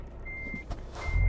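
Truck reversing alarm in Euro Truck Simulator 2, a steady electronic beep sounding twice over a low engine rumble that swells toward the end.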